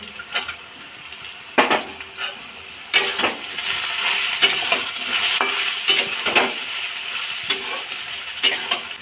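Fish going into a frying pan of fried kochur loti (taro stolons) seasoned with salt and turmeric, with steady loud sizzling broken by repeated scraping stir strokes and clinks of a spatula.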